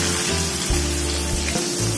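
Chicken tongseng bubbles and sizzles in a pan after water has been added, a steady close frying hiss with faint stirring, no voices.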